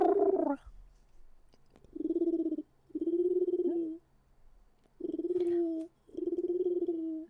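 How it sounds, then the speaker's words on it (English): Pet birds give a run of five short, tonal, hooting calls at close range, each lasting under a second and separated by brief pauses, with no talking. "Chad, did you hear the birds?"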